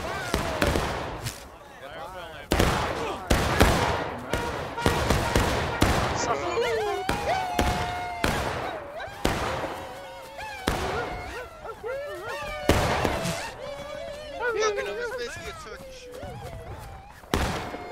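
Musket volleys crack repeatedly in the War of Rights video game, with loud, sharp shots fired in uneven bursts while players talk over the battle throughout.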